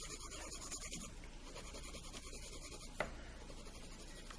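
A Schpirerr Farben colored pencil scratches steadily across paper in a continuous soft rasp, faint and close, with one small tap partway through.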